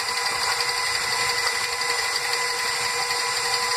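An electric mixer runs continuously while mixing batter, a steady close motor whine with an even, unbroken buzz and no voices.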